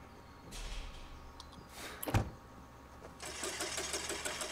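A failing minivan engine in The Quarry video game sputters and knocks faintly, with a brief sharp clunk midway and a rough, rattling idle rising toward the end.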